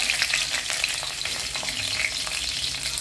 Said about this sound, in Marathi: थोडी मोहरी, थोडं जिरं चांगलं कडकडलं